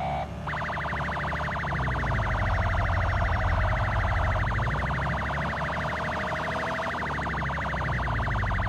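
Police car sirens wail continuously in a video game car chase, loud and close, with a steady rapid warble under heavy engine rumble and no voices.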